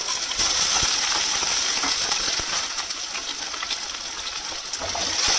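Potatoes and raw green banana hit hot mustard oil in a wok, setting off a loud, steady frying sizzle and hiss that carries on evenly throughout, with no talking.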